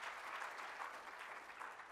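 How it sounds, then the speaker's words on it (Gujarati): An audience applauds steadily to welcome a speaker at an author talk, a dense, even clapping that holds throughout at a fairly low level with no voices over it. "આવા વિનય દવેનું આપણે તાળીઓના ગડગડાટથી સ્વાગત કરીએ."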